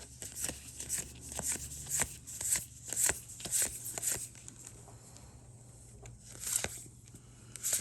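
Magic: The Gathering Time Spiral Remastered booster packs being torn open, with quiet foil crinkling, tearing and shuffling of cards in steady, close bursts.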